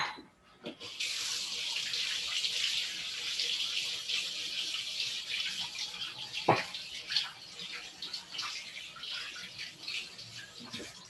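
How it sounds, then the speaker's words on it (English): Tap water runs steadily into a sink while hands are washed beneath it, a close, continuous hissing splash with a brief knock partway through and no speech. "And I need to wash my hands again."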